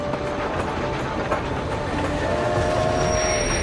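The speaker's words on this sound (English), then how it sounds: "Pierce, his wife Jane, and their son Benny were in a train wreck" A passing train in a sound effect standing in for a train wreck, with steady loud rumble of railroad cars, a faint squeal of wheels on rails, and a thin drawn-out high tone throughout.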